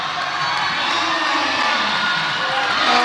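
A crowd at a lead climbing championship cheers and whoops loudly and steadily, with shouts and sustained roaring filling the whole moment.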